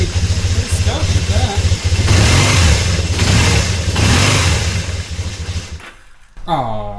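A 1978 Kawasaki KZ750 motorcycle engine is revved hard in repeated loud, close surges, then dies away abruptly near the end before a brief rising tone follows.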